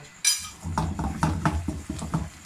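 Yogurt being stirred into chicken karahi in a pot, a spoon scraping and clinking against the metal in a steady run of close, moderately loud strokes with no talk.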